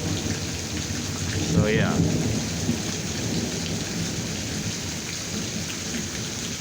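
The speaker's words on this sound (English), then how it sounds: "Here in Arkansas, it's raining." Steady rain pours during an Arkansas thunderstorm, its dense hiss filling the scene while low thunder rumbles through, with a brief spoken remark near the start.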